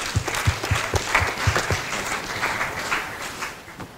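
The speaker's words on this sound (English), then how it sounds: "Round of applause." Hackathon pitch audience claps for a presenting team, several sharp, distinct claps up front settling into lighter, thinning applause that fades toward the end.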